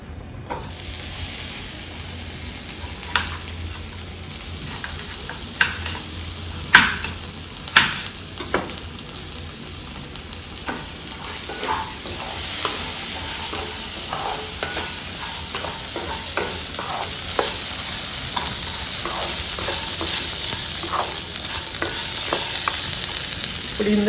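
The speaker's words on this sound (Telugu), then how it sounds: "ఇందులో 2 టమాటాలు కూడా వేసి మగ్గబెడదాం మసాలాలో" Tomatoes cook down in a sizzling masala for South Indian sambar, stirred now and then, giving a steady close frying hiss with scattered scraping clicks of the spoon against the pan; no voices.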